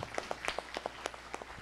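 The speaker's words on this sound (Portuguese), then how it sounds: "Yo pido una salva de palmas para el profesor Antonio Andrade" Scattered applause from an audience at a round-table academic event for a professor, heard as a handful of distinct, fairly sparse claps in an uneven rhythm.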